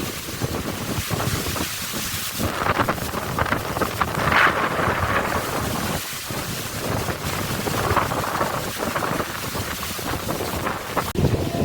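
Strong, gusty storm wind roars steadily into the microphone, a broad buffeting rush with surging swells and no voices.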